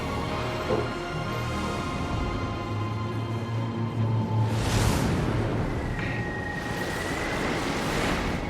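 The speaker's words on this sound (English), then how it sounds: "Be careful with the waves, bro." Waves crash and surge along a shore in Elden Ring Nightreign, a continuous roar of surf with wind that swells into a loud wash about halfway through.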